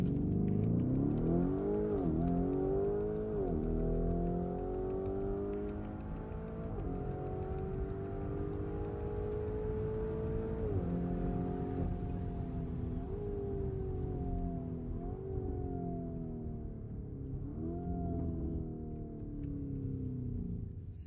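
Lamborghini Urus Mansory SUV accelerating hard from a standstill in a drag test on a motor park road, engine revving up through several gear changes in a loud, close, continuous run with no talking.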